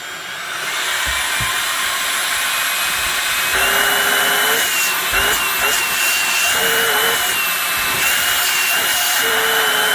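An LG CordZero cordless stick vacuum cleaner runs in power mode, a loud, steady high-pitched whine and airflow roar held close to the microphone, with the motor pitch shifting slightly as the nozzle is blocked and released.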